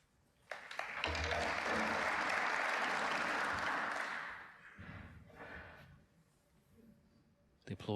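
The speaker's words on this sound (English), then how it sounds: "The applause that rang out there was for Zhao Guidong." Audience applause from another table at a snooker tournament, the German Masters, swelling quickly and holding for about three seconds before tapering off, heard at a moderate distance with a brief burst near the end.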